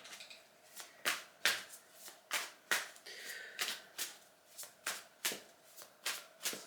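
Tarot cards being shuffled by hand, a steady series of about fifteen crisp riffling bursts at close range, with no talking.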